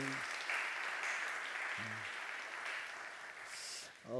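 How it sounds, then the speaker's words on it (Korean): A church congregation claps during a Sunday worship service to encourage the youth group, giving a full, sustained round of applause, while a speaking voice is heard briefly at the start and again at the end. "우리 청소년들에게 한번 격려의 박수 한번 보내주실까요?"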